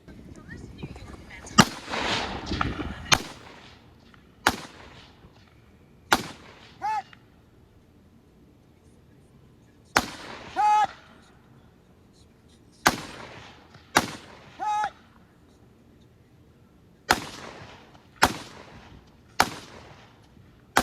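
Rifle shots fired at long-range targets during a match-style transition drill ring out one after another, each a sharp loud crack with a short echoing tail, spaced a couple of seconds apart across the stretch.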